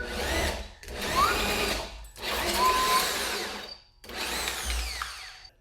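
A handheld power drill bores a hole through a ratchet handle in three long bursts of high whining, grinding cutting with short pauses between, loud and close, the pitch shifting as the bit is wiggled to enlarge the hole.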